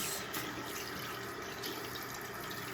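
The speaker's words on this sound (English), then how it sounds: "I'm gonna go ahead and rinse this off real quick" Tap water runs steadily while a face is rinsed after a lemon and rice scrub, a faint, continuous hiss throughout.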